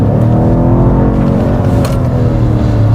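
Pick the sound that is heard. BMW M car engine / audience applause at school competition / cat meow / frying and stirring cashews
BMW M car engine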